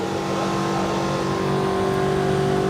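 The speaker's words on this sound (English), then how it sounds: "Nissan S13 with an Audi 5-cylinder engine." A Nissan S13 fitted with an Audi five-cylinder engine runs at a motorsport event, a loud sustained engine note with a steady tone that climbs slightly, close and alone without talk.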